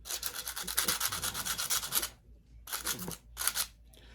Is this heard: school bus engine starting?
no